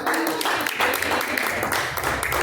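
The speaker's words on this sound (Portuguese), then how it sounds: "as palmas bem fortes para Jesus" A congregation claps hard together during an evangelical church service at night, a dense, steady wash of applause mixed with raised voices throughout.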